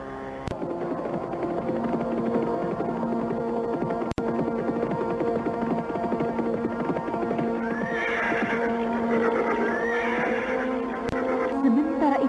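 Horses galloping and neighing as an audio-drama sound effect, steady close clip-clop of hooves throughout with whinnies rising over it near the end, over a low throbbing music bed, with no talk.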